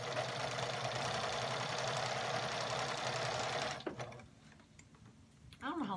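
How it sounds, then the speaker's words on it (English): A sewing machine stitches a quilt row together with a fast, steady mechanical whir for about four seconds, then stops, followed by faint handling noises and a brief voice. "I'm gonna sew the next row together"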